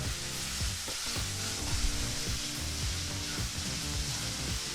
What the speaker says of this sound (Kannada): ಮೀಡಿಯಂ ಫ್ಲೇಮ್ನಲ್ಲೇ ನಾಲ್ಕರಿಂದ ಐದು ನಿಮಿಷಗಳ ಕಾಲ ಈರುಳ್ಳಿನ ಚೆನ್ನಾಗಿ ಫ್ರೈ ಮಾಡ್ಕೋಬೇಕಾಗತ್ತೆ